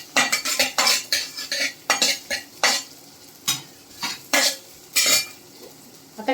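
Onion sautéing in a little oil in a pan over gas, stirred in quick bursts of loud scraping and clinking from the spatula against the pan under a light sizzle.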